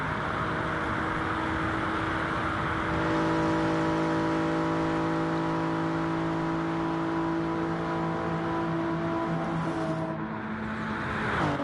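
An LMP prototype race car in a Le Mans 24-hour sim racing game screams past with a steady high-revving engine whine, loud and close throughout, with a brief dip near the end as it flies by.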